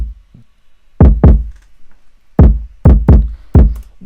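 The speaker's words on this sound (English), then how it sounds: "Here's the most important part, the 808 and the kick." Punchy kick drums in an FL Studio screamo rap beat, six deep booming hits in uneven pairs, loud and dry with quick decays and nothing else around them.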